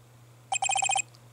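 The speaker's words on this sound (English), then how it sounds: "And what is with this stupid sounding ringtone?" A phone ringtone from the video game Ace Attorney: Justice For All plays as a quick burst of six or seven bright, evenly spaced electronic beeps, clear and alone over a low steady hum.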